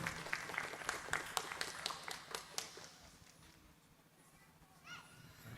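An audience in a Quran-recitation class claps, a brief burst of scattered hand claps up close that fades out after a few seconds, with faint background murmuring.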